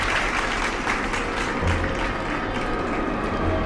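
Applause from a crowd, a steady broadband clatter of clapping filling the whole stretch at even loudness, with no talk over it.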